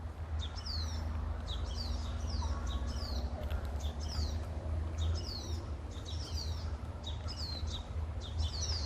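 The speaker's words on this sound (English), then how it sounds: "Hear the birds?" Birds sing in an Australian tropical rainforest at a fruit park near Cairns, repeated bright whistled phrases at a regular rhythm over a low rumbling background, moderately faint and at a distance.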